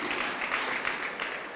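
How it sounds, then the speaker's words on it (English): A church congregation at a holy communion service clapping hands in a brief, steady burst of dense applause, fairly loud and without voices. "Let's clap hands for Jesus."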